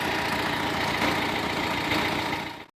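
A tractor on a hillside runs with a steady, loud, rough engine drone that holds constant for over two seconds and then cuts off abruptly, close by with no voices.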